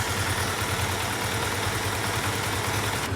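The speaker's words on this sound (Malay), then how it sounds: "So ini pula bahagian enjin ni aku bagi dengar." A car engine runs at a steady, low idle, its even rumble continuous and unbroken throughout.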